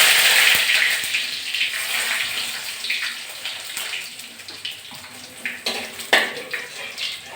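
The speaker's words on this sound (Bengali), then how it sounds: "আমি 1 চামচ কালো সর্ষে ফোড়ন দিচ্ছি" Black mustard seeds and dried chillies sizzle and crackle in hot oil, a bright hissing sputter that starts strong and gradually settles, with scattered sharp pops.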